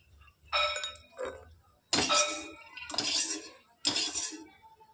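Roasted peanuts are scooped out of a kadai with a metal spoon, giving four or five distinct scraping clinks and rattles close by in an otherwise quiet kitchen.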